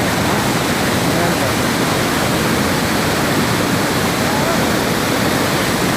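Rushing water pours steadily at Rakhsganda waterfall, a loud, continuous broadband roar close by that fills the whole span without a break.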